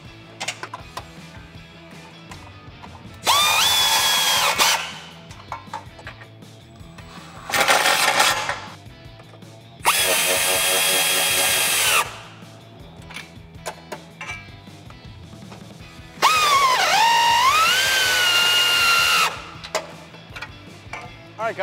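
A power tool tightening bolts on RedRock 4x4 side armor on a Jeep Wrangler JL: several loud whirring bursts of a second or two, separated by pauses, close up, with low voices in the quiet gaps.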